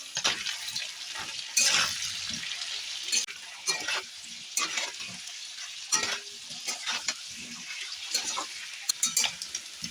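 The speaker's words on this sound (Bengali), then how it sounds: "কড়াইতে সর্ষের তেল দিয়ে গরম করে নিয়েছি এবার আলুটা ভেজে নিচ্ছি" Potatoes frying in hot mustard oil in a kadai with salt and turmeric, a soft steady sizzle broken by repeated scrapes and clanks of a spoon stirring against the pan, close and fairly quiet.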